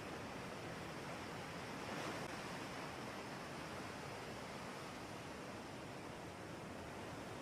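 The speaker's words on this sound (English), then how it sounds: "clean sand beneath your feet, the waves rolling out." Ocean waves roll onto a sandy beach as a soft, continuous wash of surf, faint and even throughout, with one gentle swell near the start and no voices.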